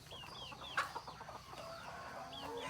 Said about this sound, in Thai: ไก่ตัวเล็กออกคอก